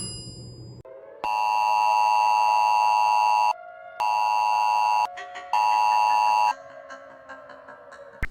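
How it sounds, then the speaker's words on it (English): Emergency alert system wireless alert tones sound as loud, piercing sustained electronic beeps in several long bursts separated by brief gaps, close and alone, then fading into quieter tonal sounds. "Wireless alert."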